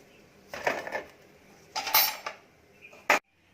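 Roasted sweet potatoes set onto a plate, giving three separate clattering knocks of food and utensil against the dish, close and moderately loud, with a sharp final clink before silence.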